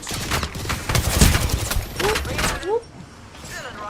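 Bursts of rapid gunfire from an enemy team in a video game crack repeatedly in quick volleys, then fade out, with someone talking over the shots.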